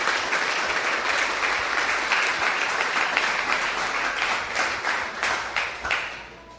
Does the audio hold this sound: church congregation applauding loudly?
yes